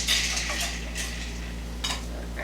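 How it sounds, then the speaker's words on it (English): Blanched cauliflower is scooped from boiling water into an ice bath, with soft scraping and light utensil clinks over a steady low kitchen hum. "I'm just going to scoop the cauliflower out of the boiling water, and we're going to put it into its ice bath"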